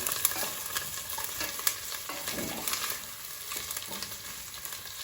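Meat sizzling in a pan with pepper paste and tomato paste, a steady soft frying hiss with light stirring scrapes throughout, fairly quiet and close, no voices.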